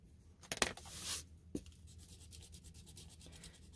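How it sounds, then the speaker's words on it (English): An eraser scrubs across paper over a stippled pen and ink drawing, giving quiet, close, dry rubbing strokes in short bursts with a brief sharper scrape, then a steady soft rhythmic friction continuing alone. "let me erase"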